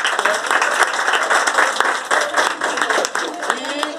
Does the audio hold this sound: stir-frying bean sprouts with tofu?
no